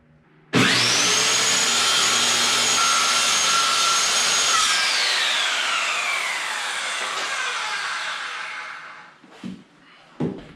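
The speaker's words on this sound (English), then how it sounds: "Let's cut this MDF." Power saw cutting through an MDF board for a shelf, a loud whining spin-up into a sustained gritty cut that slowly winds down, followed by a few thuds.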